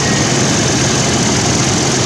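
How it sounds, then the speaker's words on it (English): A Toyota Tacoma pickup's engine idles during an oil change, giving a steady, loud, close mechanical hum and rumble for a couple of seconds with no talking. "Now we're going to shut the truck off."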